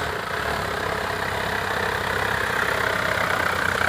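A box truck's engine droning steadily on a steep hill road, a continuous rough mid-to-low rumble with no break, no voices.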